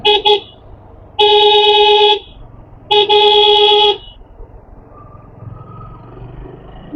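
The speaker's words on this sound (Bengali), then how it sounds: "অথবা তো হর্ন দিচ্ছি" Loud, close car horn blasts on a busy road in traffic near Siliguri, North Bengal: one brief toot, then two long honks about a second each, over a low rumble of passing vehicles.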